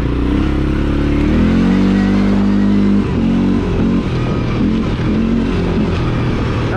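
A CFMOTO CForce 400 ATV with its 400cc engine revving at low RPM, a loud, close throaty drone that rises and dips with engine speed, with some clattering mixed in.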